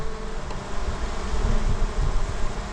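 Honey bees buzz outdoors near their hive, a continuous faint hum of many insects with rustling, breezy background noise and no voices.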